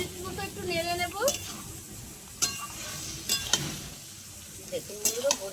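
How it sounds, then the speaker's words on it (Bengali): Malabar spinach curry with a little sugar is stirred in a pan over a low, steady sizzle, while a spoon scrapes and taps against the pan in short bursts every second or so. A voice speaks briefly at times. "চিনিটা দিয়ে আমি 1 মিনিট মতো একটু নেড়ে নেব।"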